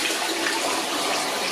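Water poured from a glass into a blocked toilet bowl in a bathroom, a short steady splashing rush at close range with no talk.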